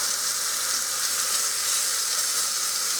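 Pork chop searing in a hot pan, a steady loud broadband sizzle and hiss that holds evenly throughout with no talk.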